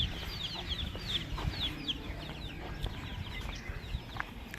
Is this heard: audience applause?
no